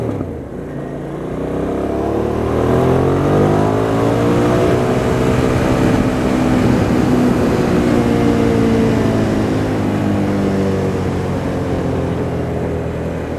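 A 2008 Hyosung GT650R sport motorcycle accelerates along an airport perimeter road, its engine note swelling and rising in pitch, then holding a loud, steady roar with wind rush.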